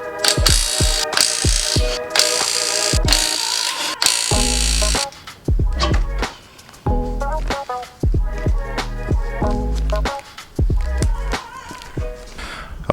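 A ratchet works the wheel fixings on a Tesla Model S under repair for a broken air suspension, giving bursts of rapid mechanical clicking with pauses and clanks between them, close and fairly loud.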